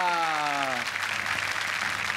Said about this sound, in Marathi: वाव, जोरदार टाळ्या